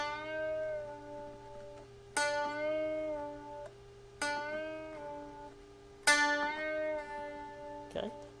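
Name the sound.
guitar string bend and release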